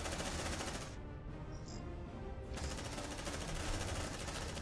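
Rapid automatic gunfire rattles in the Aliens: Dark Descent video game, a dense, continuous burst at low volume. It pauses for about a second and a half, then resumes.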